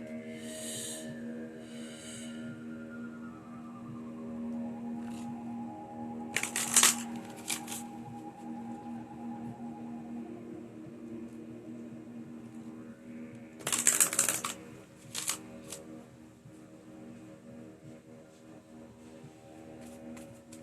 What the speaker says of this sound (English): I'm gonna pull three last cards from the Ascent Oracle deck.